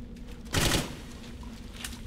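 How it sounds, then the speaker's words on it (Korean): A loud burst of gunfire from the PC game Clive Barker's Jericho around the middle, rapid shots blending into a short volley, with a softer crack near the end over a low steady hum. "아 총소리는 여전히."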